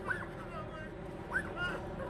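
Police K9 dog whimpering after being shot during a live-streamed incident in Bakersfield, California: two short high-pitched cries about a second apart, close by, over a constant rumble of background noise and activity.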